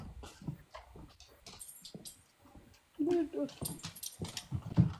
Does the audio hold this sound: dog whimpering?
yes